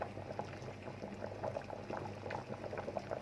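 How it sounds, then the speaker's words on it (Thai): A pot of water rolling at a boil for mackerel tom yum soup with lemongrass and kaffir lime leaves, a dense, steady bubbling heard up close at low volume. "น้ำเดือดแล้ว"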